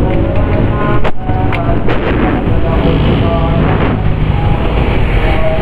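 Carbureted Honda Beat scooter fitted with a Vario 110 pulley, its engine kick-started and running with a loud, continuous buzzing idle, close to the microphone.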